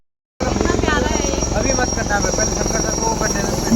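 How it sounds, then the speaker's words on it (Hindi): Two military helicopters flying past with a steady, loud rotor chop and engine drone that starts abruptly and stays close, with a faint voice underneath. "आप देख सकते हैं दो हेलीकॉप्टर"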